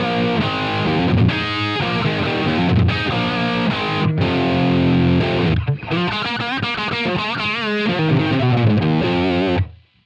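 Heavily distorted electric guitar through a Line 6 Helix amp model, tuned down a half step, playing loud sustained chords and riffs with thick saturation, then cutting off abruptly.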